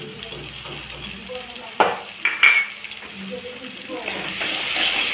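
Ginger paste and cumin powder go into a frying pan while cooking cabbage curry, giving a steady sizzle with a couple of sharp utensil clinks against the pan midway; low background talk may be present.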